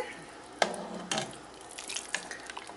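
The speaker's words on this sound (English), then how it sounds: "Mix in the bacon." Bacon is stirred into a pot of corn chowder with a slotted spoon: a couple of quick scraping, sloshing strokes, close and soft, with no speech.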